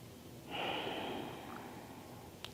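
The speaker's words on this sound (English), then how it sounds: "Keep breathing." A person on a yoga mat takes one long, close breath through the nose during a deep stretch, starting sharply and trailing off softly, with nothing else around it.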